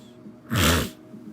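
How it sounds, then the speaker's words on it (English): A single short, breathy sniff or nasal snort, close and fairly loud, lasting about half a second against quiet background. "Excuse me for the sniffling"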